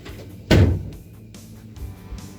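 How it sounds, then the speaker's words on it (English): A door closes once with a single loud, close thud, followed by faint room noise. "Let me close the door."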